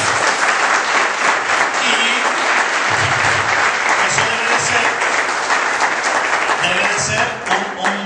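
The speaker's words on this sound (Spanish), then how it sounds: "dar un aplauso a los que vienen por primera vez" A church congregation breaks into loud, sustained applause welcoming first-time visitors, dense clapping filling the room for several seconds while a voice talks over it near the end.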